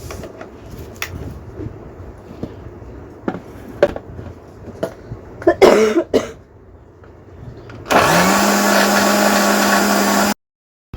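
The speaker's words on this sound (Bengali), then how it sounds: "মিক্সির এই যে বড় এই যেটাতে আমি নিম হলুদ বাটছি" A kitchen mixer grinder whirs steadily as it grinds neem leaves with turmeric, a loud continuous drone that starts abruptly after scattered clattering and a cough, runs for a couple of seconds, then cuts off.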